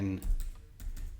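Computer keyboard keys tapped in a few quick bursts, close and fairly quiet, with a short pause between clusters of keystrokes.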